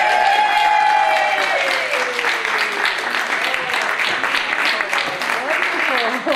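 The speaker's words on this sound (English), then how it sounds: "Another round of applause, please, guys, for Selena" An audience at a Women's Day celebration applauds steadily and loudly for several seconds, with a speaking voice running over the clapping.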